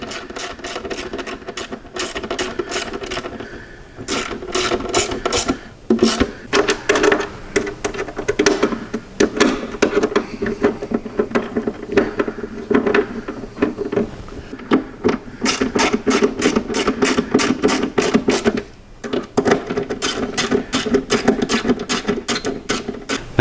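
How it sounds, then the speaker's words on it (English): A hand ratchet snugs screws down through a plastic bag lid, making rapid repeated clicking bursts in close, steady runs with short pauses between them, and no voice is heard. "I recommend that you use a ratchet to run these in."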